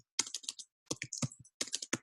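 Quick clusters of keystrokes on a computer keyboard as a search is typed, close and crisp, arriving in three short bursts separated by brief pauses, no talking.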